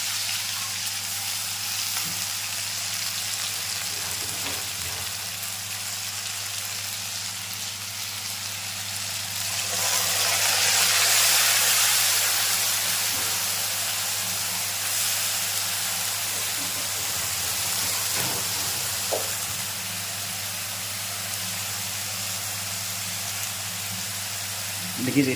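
Cumin seeds and three ground green chillies fry in oil for a village-style Tura fish curry, giving a steady sizzle that swells louder for a few seconds midway, with someone talking over it and a few utensil clinks.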